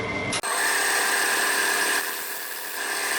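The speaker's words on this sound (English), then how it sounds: "I'll just get my little pointed carbon cutter and just put a little line" A steady, close scraping hiss of a pointed carbide cutter scoring a line near the edge of a spinning wooden bowl on a lathe, starting after a brief sharp transition and continuing evenly with a faint high whine.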